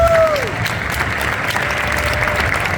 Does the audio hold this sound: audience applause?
yes